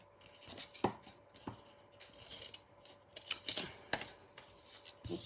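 Scissors snip through stiff card in a series of short, crisp cuts, close by and fairly quiet, with rustling between the strokes.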